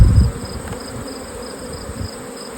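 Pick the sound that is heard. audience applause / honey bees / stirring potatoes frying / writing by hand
honey bees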